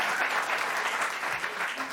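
Brief burst of studio audience applause on a TV talk show, steady and moderately loud for about two seconds with no talk over it.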